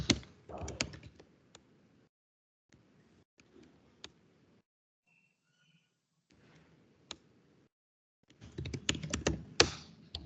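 Computer keyboard keys being typed to enter a root user password during a server session, heard as sparse clicks and short bursts of keystrokes, with louder clusters of tapping at the start and end and quiet gaps between.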